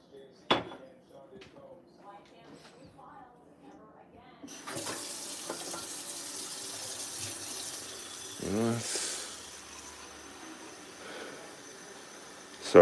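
Water runs and pours as someone tops up a drink, opening with a few faint clinks and dripping, then a steady splashing stream with a louder gush partway through.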